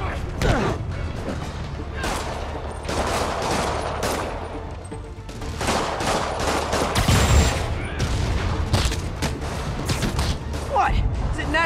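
Rockets fire and explode in Spider-Man on PS4, a continuous barrage of launches, booms and mechanical clatter filling the scene, with a voice talking over the action.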